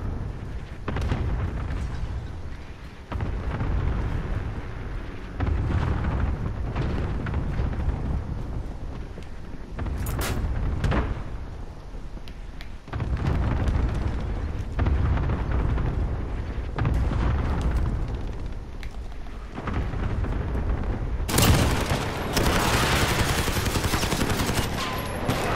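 Grenade launcher explosions in Call of Duty: Modern Warfare, repeated heavy booms mixed with gunfire bursts over about twenty-five seconds, loud and close with sharp blasts standing out.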